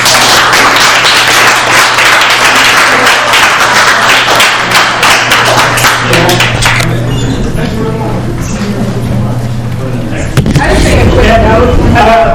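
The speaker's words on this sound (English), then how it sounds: "Let's give everybody a round of applause." A committee meeting audience gives a round of applause: brisk, close clapping from several people for about seven seconds, fading into murmured talk and room noise.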